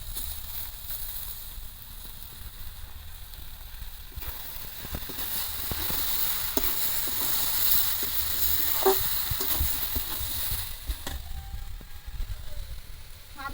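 Boiled ash gourd and potato go into a hot frying pan with chopped onion, a moderate continuous sizzle that swells slightly midway, with occasional stirring scrapes.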